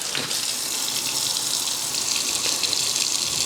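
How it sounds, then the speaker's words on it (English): Hot water pouring through a strainer onto leftover ice and berry seed pulp from a Vitamix 5200 blender, a steady close splashing gush throughout. "I'm going to put hot water through this to melt all the ice that's still there."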